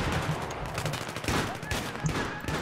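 Rapid bursts of automatic gunfire from Battlefield 3 team deathmatch, loud, close and dense, with a brief voice underneath.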